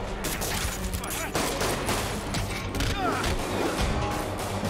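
Dense, continuous rapid gunfire from minigun-wielding brutes in the Spider-Man: The Heist video game, loud and close, with crashes and mechanical clatter mixed through the barrage.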